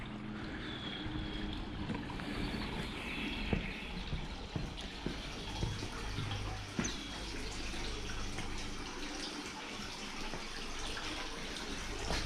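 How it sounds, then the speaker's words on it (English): Continuous spring water babbling steadily outdoors at the Andersonville Civil War prison site, moderately close, with faint scattered clicks and no talking. "We have the spring. You can probably hear the water running."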